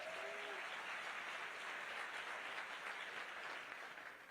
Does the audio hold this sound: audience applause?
yes